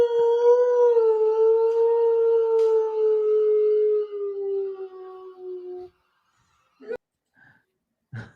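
An animal lets out one long, loud, sustained howl that sinks slightly in pitch over about six seconds, then breaks off into silence with a few brief knocks.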